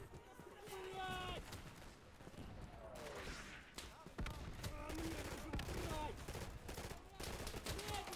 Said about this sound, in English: Got torn apart by MG42 fire.